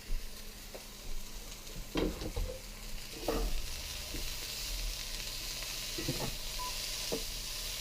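Broccoli searing in oil in a hot pan, a quiet steady sizzle with a few scattered stirring clinks and scrapes, no talk.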